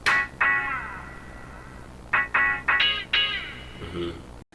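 A chopped guitar sample in a boom bap beat, split across two guitar tracks, sounds as short bright stabs cut off abruptly. The stabs come in uneven bursts with brief gaps between them.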